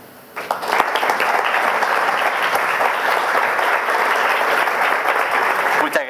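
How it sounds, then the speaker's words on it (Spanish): Sustained, even applause fills the room after a seminar talk, starting abruptly and holding at a loud, dense level for several seconds before a voice enters at the very end. "Muy merecido el aplauso."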